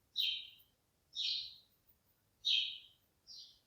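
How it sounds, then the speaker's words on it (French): Outdoor birds give four clear, evenly spaced high chirps, each a short bright call about a second apart, fairly close against a quiet background. "Je sais pas si on entend les oiseaux piailler."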